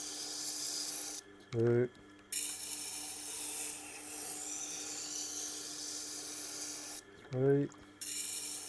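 A kitchen knife is drawn across the wheel of a Tormek T8 sharpener, giving a continuous soft hiss and rasp of steel on stone, twice broken by a brief spoken count.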